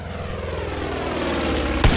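Enemy propeller airplane flying overhead in the video game Far Cry 5, a steady droning engine hum that holds close and continuous, rising slightly near the end with a brief sharp burst.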